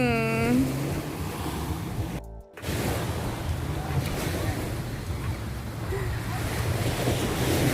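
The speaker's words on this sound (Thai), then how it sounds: "เสียงคลื่นทะเลค่ะคุณ" Continuous wash of sea waves breaking on shore at Jomtien beach with gusty wind buffeting the microphone; a brief dropout midway, and a faint voice at the start.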